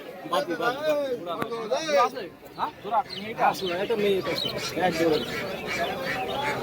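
Pigeons at a busy pigeon market in Bongaon, birds calling and cooing in a dense jumble under nearly continuous crowd chatter and voices.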